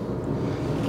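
A John Deere 1025R compact tractor's engine idles around 1500 rpm, a steady low rumble that holds unchanged at a close distance, with no talk.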